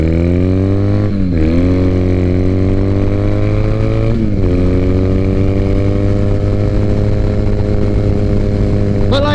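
A 2006 Triumph Bonneville cafe racer motorcycle rides down the road, its steady loud engine drone rising in pitch through two gear shifts, close and continuous throughout.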